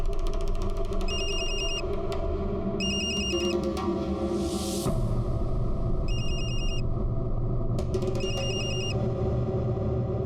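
A telephone rings repeatedly in short electronic trill bursts, four rings spaced a few seconds apart, over a steady low background rumble, with no voices.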